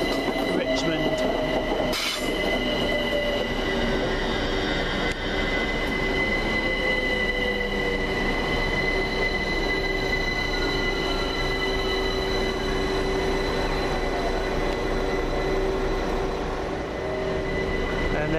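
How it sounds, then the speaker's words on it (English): London Overground Class 378 electric train, unit 378229, running past on the line at Gospel Oak, wheels squealing and rails rumbling steadily at close range, with a sharp knock early on. "And there goes 378229 with the 1500 London Overground service from Stratford through to Clapham Junction."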